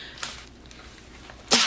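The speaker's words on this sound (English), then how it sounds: "Sorry, I'm sneezing." A single sharp sneeze bursts out at the end after a faint inhale, loud against quiet room background.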